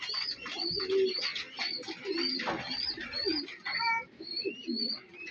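Pigeons coo in soft, repeated low calls close by, with bright chirps and tweets mixed in, fairly steady through the stretch.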